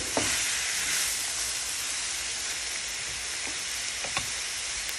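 Steak, mushroom and asparagus stir fry sizzles steadily in a hot pan, a dense continuous hiss with a few soft clicks of stirring; a voice speaks briefly at the start.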